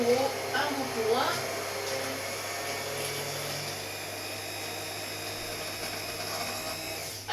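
An immersion blender puréeing broccoli and almond soup hums steadily and fairly faintly throughout, with someone speaking French over it at the start.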